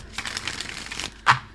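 A deck of tarot cards is shuffled nearby, a papery rustle lasting about a second that ends in a single soft tap as the cards settle.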